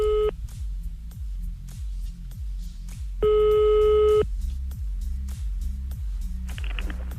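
Telephone ringing tone on a prank call during a French radio show: two steady electronic tone bursts, one short and one about a second long, over a thumping music bed, with no voices.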